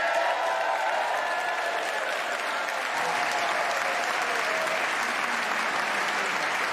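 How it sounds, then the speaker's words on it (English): Loud, sustained applause fills the Wisconsin Assembly Chambers as the governor walks down the aisle for the State of the State address, a thick, even roar of clapping from a large crowd that never lets up. "And so, to loud applause, the governor makes his way down the aisle of the Assembly Chambers"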